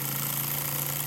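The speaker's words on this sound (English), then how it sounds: "It sounds like a gasoline engine because it moves so darn fast." Empire B30 toy steam engine running fast, giving a steady, loud mechanical drone with a constant hum, like a small gasoline engine idling at high speed, with no talk.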